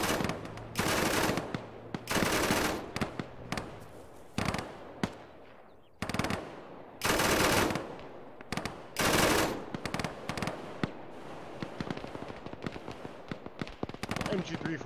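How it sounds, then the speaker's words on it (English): MG3 machine gun in the Arma video game, rattling off long bursts from a distance with short gaps between, loud and echoing, under occasional talk. "MG3 from afar sounds so mean"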